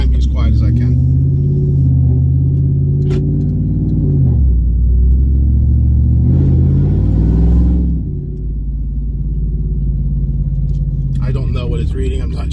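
Truck fitted with an AWE exhaust, longtube headers and a cam accelerating: a loud, deep engine rumble builds and holds, then eases after about eight seconds. It stays steady under a voice talking over it.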